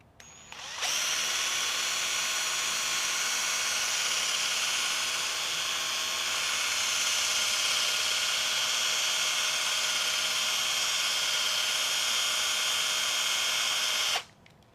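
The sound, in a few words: power drill spinning part for polishing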